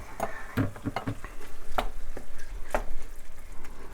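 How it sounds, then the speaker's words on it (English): Diced tomatoes go into a pot of cooked ground turkey for spaghetti and are stirred, giving close, irregular scraping and wet clatter over a low sizzle, with no talking. "So the next step is to add your diced tomatoes. So you're going to add that mixture right to the pot."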